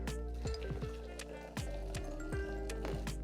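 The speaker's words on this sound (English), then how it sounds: "get a strainer, put it on my pasta pot, and reserve a little bit of pasta water" Hot pasta water poured through a metal strainer into a pasta pot, a close liquid gurgle broken by repeated sloshes and clinks from the pot.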